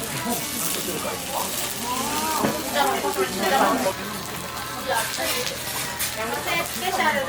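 Beef yakisoba sizzling on a hot iron plate at a dinner in Kansai, Japan: a loud, continuous crackling fry with bubbling spatter, close by, with voices murmuring underneath.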